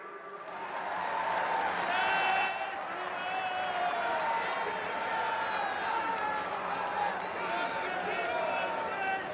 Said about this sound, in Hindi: तालियों का जयघोष रुकना नहीं चाहिए